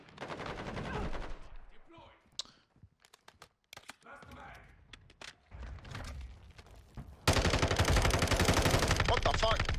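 Rapid LMG bursts in Call of Duty: Modern Warfare II, with short staccato volleys and scattered single shots, ending in a loud sustained stream of automatic fire, mixed with gameplay noise.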